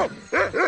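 A dog in Monkey Island 2 Special Edition gives two quick close yipping barks in under a second, following a short faint bark at the start.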